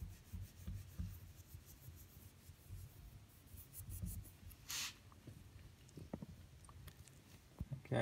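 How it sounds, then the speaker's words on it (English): Steady, soft rubbing as AutoSol metal polish is worked by hand into the frame of a Colnago Super bicycle, a continuous close scuffing texture with a few light knocks near the end. "That's all I'm going to do, just spend some time rubbing it in."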